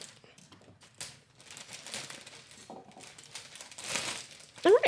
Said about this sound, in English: I'm just going to cut some of the paper